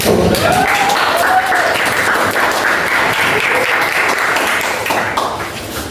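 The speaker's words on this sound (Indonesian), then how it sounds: "Berikan aplaus" Audience applause fills a classroom coaching session in Indonesia, a dense, steady wash of clapping that carries on for several seconds before tapering slightly at the end, with voices murmuring underneath.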